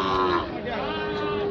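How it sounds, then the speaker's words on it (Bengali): Sahiwal bull calves at the Raniganj cattle market give a steady, drawn-out lowing moo that fills the short moment, set against a busy background of market chatter and nearby voices. "শাহিওয়াল জাতের দুইটি বাছুর।"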